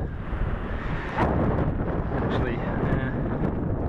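Wind rushes across a microphone on the exposed front of a hill, a steady low roar with a gust swelling partway through while someone speaks briefly.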